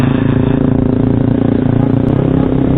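A modified Yamaha R15 V3 motorcycle rides at low speed. Its engine gives a steady, close, buzzing drone with a rapid pulsing rhythm, heard alone over strong wind rumble.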